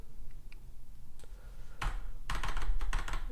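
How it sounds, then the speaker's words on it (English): Typing on a computer keyboard with the backspace key pressed, close-up: a few scattered key taps at first, then a dense, rapid burst of clicking keystrokes toward the end, with no talking. "If we hit backspace, it should delete it."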